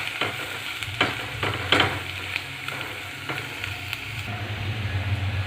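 Onion and turmeric frying in oil in a pan, with a steady sizzle throughout and repeated scraping clinks of a spoon stirring, fairly close and moderately loud, no voices.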